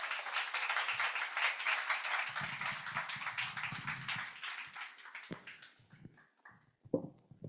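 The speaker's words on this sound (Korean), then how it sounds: "우리 박수로 환영하도록 하겠습니다." A church congregation applauds to welcome Pastor Ko Sung-joon at a third-anniversary thanksgiving service: steady, dense clapping fills the room, then thins into scattered claps and a few louder final ones.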